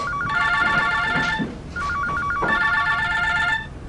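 Telephone ringing indoors with a repeating electronic trill, two distinct bursts separated by a short gap, loud and close with no one speaking over it.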